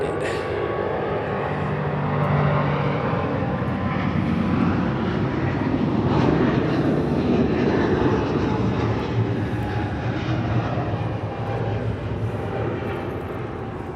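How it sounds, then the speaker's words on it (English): A United Boeing 777 airliner passes at LAX, a loud broad jet roar that swells in the middle and eases slightly toward the end. "That was like the third 777 in a row with United."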